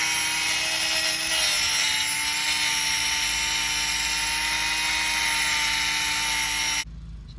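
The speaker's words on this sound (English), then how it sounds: "My next approach is to use this Dremel cutting blade here and try to cut and split the nut" A Dremel rotary tool with a cutting blade grinds into a stuck nut while replacing front air struts on a Mercedes GL550 X164, making a loud, steady high-pitched whine that runs unbroken for about seven seconds, then stops abruptly.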